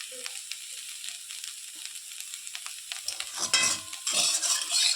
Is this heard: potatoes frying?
yes